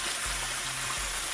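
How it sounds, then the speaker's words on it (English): A small waterfall beneath a rock archway in Big South Fork rushes as a steady, loud broadband roar of flowing water, with faint low thumps underneath. "I'm here at the little waterfall and the little archway above it"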